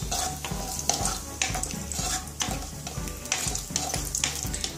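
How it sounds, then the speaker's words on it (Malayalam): Cashews fry in the same pan used for baby potatoes for dum potatoes, a close sizzle broken by regular stirring scrapes that come in a steady rhythm, moderately quiet, with no voices. "പൊട്ടാറ്റോസ് ഫ്രൈ ചെയ്ത അതേ പാനിലോട്ട് നമുക്ക് ഈ കാഷ്യൂസ് ഇട്ട് കൊടുക്കാം"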